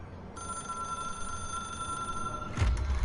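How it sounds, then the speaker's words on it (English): A telephone rings in the video game Control, a steady electronic bell tone sustained for about two seconds, then a louder thud and burst near the end. "It is a phone."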